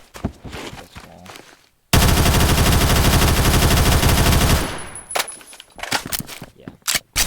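An X95 SMG fires in Phantom Forces in one long, loud, rapid automatic burst lasting almost three seconds. Scattered clicks and handling noises come before and after it.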